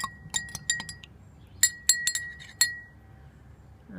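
A spoon stirring food coloring into a glass of water, ringing with a series of bright, close clinks against the glass in an irregular rhythm, some quick pairs, then trailing off into quiet.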